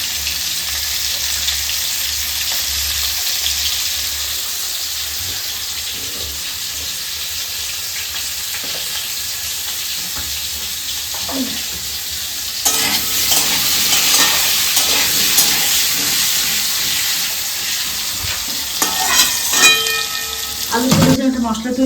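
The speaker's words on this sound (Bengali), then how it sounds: "শুধু নুন দিয়ে ভাজবা? হালকা করে হলুদ দিয়ে নিই।" Potatoes fry in a pan with salt and turmeric, giving a continuous sizzle with repeated scraping stirs that grow louder and busier toward the end.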